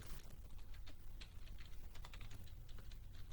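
Typing on a computer keyboard, a brisk irregular run of close key clicks and taps with no talking.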